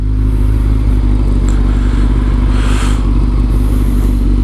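A Kawasaki ZZR 600 motorcycle being ridden at night, with a steady loud engine drone and heavy wind rush filling the whole stretch and a slight rise in pitch midway. No one speaks.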